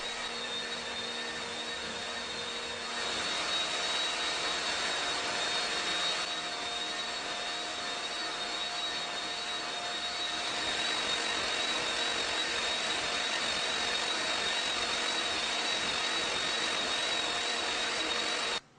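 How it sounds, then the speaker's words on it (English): A belt sander fitted with 50 grit sandpaper runs across a floor, giving a steady high whine and abrasive hiss that continues without a break from start to end. "the belt sander with 50 grit sandpaper was much faster"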